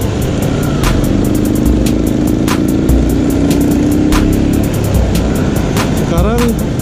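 A motorcycle ridden along a road with steady engine drone and heavy wind buffeting close to the mic, with brief passing noises near the end.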